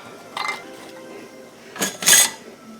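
A hot glass jar of apples in simple syrup, fitted with lid and ring, is set down into a boil bath canner, giving a couple of short clinks and clatters against the metal, close and fairly quiet.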